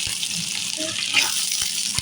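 Crab pieces tipped into a pan for a garlic butter crab dish, giving a steady watery, sizzling pour with a brief louder splash partway through, close and continuous for about two seconds.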